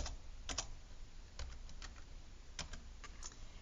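Keys clack on a computer keyboard, scattered in short, irregular bursts over about four seconds. The taps are moderately close and ring out alone with no speech.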